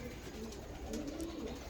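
Pigeons being handled and checked, with soft low cooing murmurs repeating over a light background hiss, close and fairly quiet.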